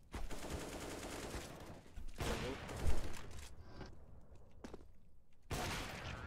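Rapid bursts of gunfire from a CS:GO match, loud fusillades and machine-gun-like volleys in clusters separated by brief quieter gaps, with faint footsteps between them.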